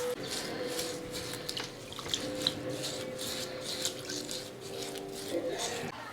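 A pork hock is rinsed under a running kitchen tap, a steady splashing water stream with light knocks and clinks at a sink, close and continuous.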